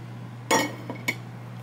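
A small plate clinks as it is taken out: one bright ceramic knock, then two lighter taps a moment apart, close by against a low steady hum.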